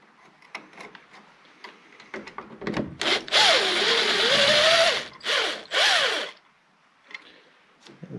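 A power drill backs a screw out during a shop light upgrade, with light clicks and handling noise at first, then a loud close whine rising and falling across several bursts before fading to quiet rustling.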